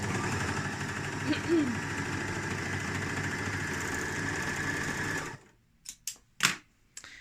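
A serger sewing machine runs steadily as it stitches down a length of fabric, with a close, even mechanical whir for about five seconds, then stops, leaving a few soft handling clicks and brief voice sounds.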